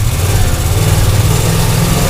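A 1973 International truck engine pulling in second gear, heard as a loud, steady low rumble with a droning hum, continuous and close throughout.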